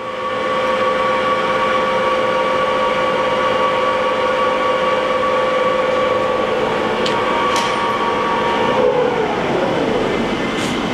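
A 2007 Johnford ST-40G+CF CNC lathe with a 50 horsepower spindle, running at about 280 RPM, gives a loud, steady mechanical whine with strong constant tones that hold for the whole stretch, then dip slightly near the end.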